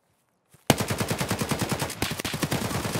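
A pistol fires in Escape from Tarkov, a loud rapid burst of about two dozen close shots in quick rhythm after a brief silence, with a short pause partway through.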